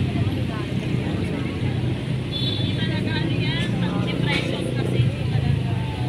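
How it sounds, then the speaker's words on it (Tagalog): Steady traffic noise from vehicles passing on the street outside a McDonald's, a continuous broad rumble with a few brief tonal squeals, while a person talks over it the whole time. "Maingay po dito kasi may mga sasakyan."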